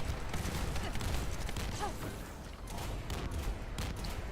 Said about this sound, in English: there is nothing but explosions